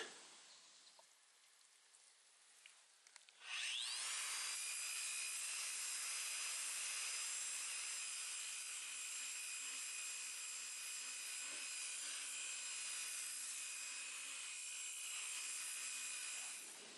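A 30 grit wheel grinds a large chunk of Minnesota jasper. After a few quiet seconds a loud, steady whine starts and holds for the rest of the clip, carrying high ringing tones.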